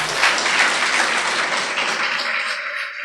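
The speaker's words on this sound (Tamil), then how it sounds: "கைத்தட்டல் கொடுக்கலாமே." A school audience at an Independence Day debate bursts into dense, even clapping that holds steady for a few seconds, then begins to thin out.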